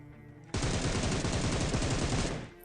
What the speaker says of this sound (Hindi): उसके बाद फायरिंग आती है कहीं और से